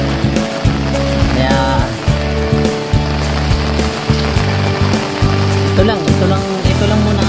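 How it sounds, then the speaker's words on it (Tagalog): Heavy rain pours steadily and loudly, drumming on a nearby surface, with a low engine-like rumble running underneath the whole time. "lakas na ng ulan"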